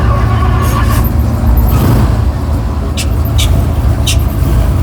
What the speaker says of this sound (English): This is a 64 Galaxy here. It's a sharp looking car.